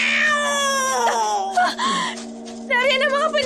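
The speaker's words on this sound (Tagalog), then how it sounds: "Yung pusang sumalakay sa akin, narito siya!" A cat yowling and wailing in a Filipino aswang horror audio drama, a long rising and falling caterwaul with a steady tonal hum beneath, loud and close, broken by short rustling noises.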